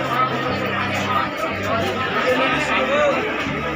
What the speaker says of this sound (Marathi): या तिकिटीच्या परिसरामध्ये किती गर्दी आहे, किती लोक जमलेले आहेत